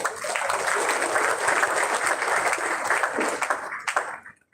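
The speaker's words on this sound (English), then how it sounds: "I think we should give him a round of applause" Audience applause for a man honoured for his engagement with a Catholic youth group, a full, sustained round of clapping from a crowd that fades out over the last half second.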